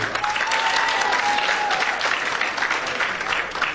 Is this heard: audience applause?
yes